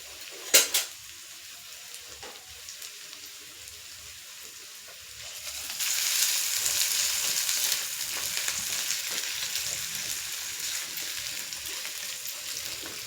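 Ingredients and coriander seeds frying in a pan for chutney: a couple of sharp clinks of utensils at the start, then a steady close sizzle that swells midway and continues without talk.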